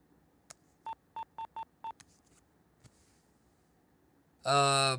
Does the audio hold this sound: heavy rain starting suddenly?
no